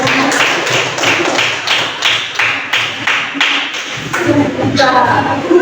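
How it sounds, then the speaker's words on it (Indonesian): A classroom of students claps for a student group, a loud burst of rhythmic hand claps with voices mixed in underneath. "Tepuk tangannya"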